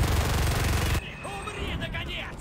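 Gunfire in the World War II shooter game Enlisted, a rapid dense burst of shots for the first second, then quieter battle noise with distant shots under a voice.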